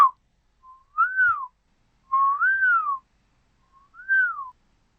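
A person whistles into a computer microphone for a slide-show sound recording: three short, rising-and-falling whistled phrases, close and clear, separated by silence.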